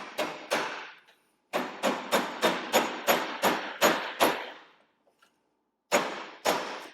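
A rapid series of sharp metallic hammer strikes on soft pewter, close and fairly loud, in two bursts with a pause between, then a couple more blows.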